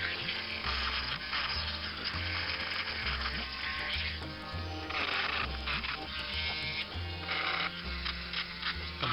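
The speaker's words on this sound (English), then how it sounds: "grinding out a bit of a dent and making it look good" A small rotary tool grinds a dent into the rear bumper of a plastic Airfix Triumph Herald model car, giving a steady, close buzzing whine that runs the whole time with no talking.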